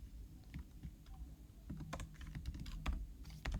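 Code is typed on a computer keyboard in irregular bursts of light, close key clicks over quiet room noise, with no talking.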